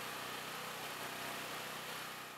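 Small engine idles steadily with its cover removed during a stator main coil voltage test, giving a constant, even drone with no talk.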